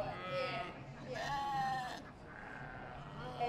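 A sheep bleats at the Royal Highland Show during a young handlers class, with several wavering, nasal bleats close by and faint voices in the background.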